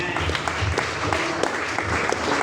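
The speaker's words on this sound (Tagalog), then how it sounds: "palakpak sa ating mahal na Panginoon" A congregation claps in church, a steady moderate patter of many hands with some faint background murmur.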